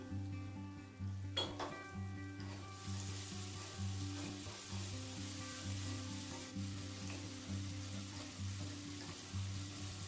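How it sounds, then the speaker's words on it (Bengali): Onion, garlic and tomato sizzle in a pan for a dry cabbage curry, a soft steady frying hiss broken by repeated scraping and stirring strokes throughout, fairly quiet and with no talk. "পেঁয়াজ রসুন এবং টমেটো কিছুক্ষণ নাড়াচাড়া করে নিয়েছি"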